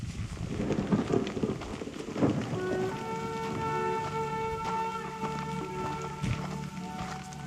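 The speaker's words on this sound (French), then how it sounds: "Il pleut." Steady rain falls on surfaces outdoors during a thunderstorm alert on a hiking trail in the Niolu valley of Corsica, a dense continuous patter with a sustained tonal hum rising in the middle.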